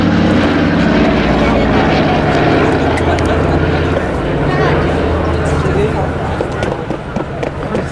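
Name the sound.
BBMF Douglas DC-3 Dakota propeller aircraft flying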